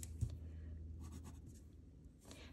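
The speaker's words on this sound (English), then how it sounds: "So now we can erase this part." Eraser rubbing out part of a pencil drawing on paper, faint soft scrubbing strokes in short bursts, quiet and close.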